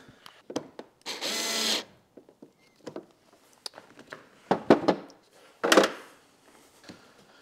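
A power drill tightening screws during installation of a trunk light on a 2021-or-newer Honda, short bursts of whirring with one longer run, separated by clicks and handling noises.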